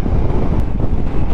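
Wind rushing over a motorcycle helmet while riding a Triumph Trident 660, a loud steady low roar with a buffeting rumble and no voice over it.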